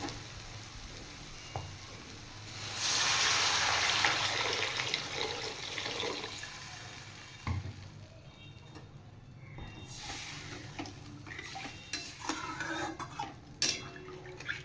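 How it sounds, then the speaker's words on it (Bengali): Water is poured into fried spices in a pan for a fish curry, setting off a loud surge of hissing sizzle that peaks early and then fades into quieter bubbling, with scattered clinks and stirring sounds afterward. "এবার আমি পরিমাণ মতো জল দিয়ে দেবো"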